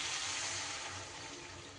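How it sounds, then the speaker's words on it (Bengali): Water pours in a steady, close, full-bodied gush into a pan of cooked spice paste for a banana-stem curry, fading slightly as the stream continues alone. "এইবার আমি এই পর্যায়ে দিয়ে দেব এখানে জল।"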